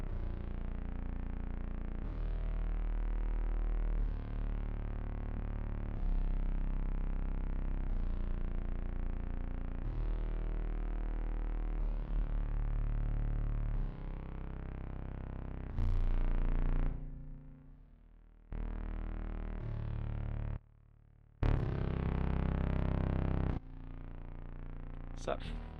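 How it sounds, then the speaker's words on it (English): Music played live during a music stream with a heavy reverb effect, sustained washed-out tones ringing on at a fairly even level before cutting in and out in abrupt bursts toward the end. "That's too loud, too much reverb."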